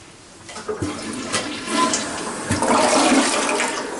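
A household toilet flushes nearby, a loud rushing gush of water that builds and holds steady with no voices over it.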